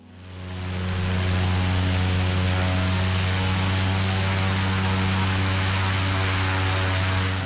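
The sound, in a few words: propeller plane at takeoff power stuck in soft ground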